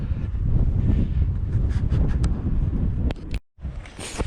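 Strong gusty wind on open moorland near Haytor buffets the microphone with a loud, rumbling roar that briefly drops out before picking up again.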